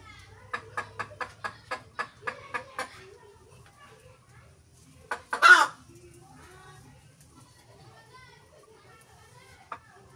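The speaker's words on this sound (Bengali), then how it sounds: "দেখা যাচ্ছে মুরগিগুলো কি হচ্ছে।" Domestic chickens clucking nearby in a quick run of about eight sharp, evenly spaced calls, followed after a pause by a louder burst of squawking and a single late cluck.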